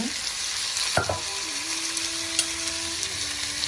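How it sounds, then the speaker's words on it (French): Udon noodles stir-fried with vegetables in a wok: a steady, loud sizzle and crackle throughout, with a few light clicks of the stirring, and no talk. "J'ajoute maintenant mes nouilles udon"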